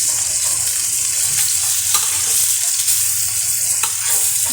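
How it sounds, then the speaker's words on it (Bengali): Fish pieces fry in a pan with oil, the second side now cooking, giving a loud, steady sizzle with occasional crackling pops and faint utensil stirring throughout, no voices. "এবার অন্য পাশটা ভেজে নিচ্ছি"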